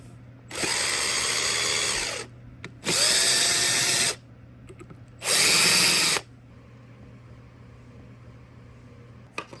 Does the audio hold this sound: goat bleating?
no